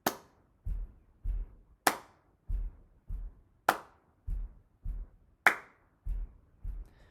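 Hand clapping in a steady triple-meter pattern, a loud accented clap followed by two softer claps, repeated four times at an even tempo, close and dry with no voices.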